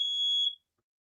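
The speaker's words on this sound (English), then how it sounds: "That's Trips has got a fire alarm" A fire alarm gives a single steady high-pitched electronic beep lasting about half a second, clear and moderately loud, then stops into silence.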